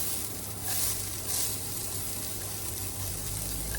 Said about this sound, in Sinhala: ඊපස්සේ අපි මේකට දාගමු අපේ බීලුණු ටික.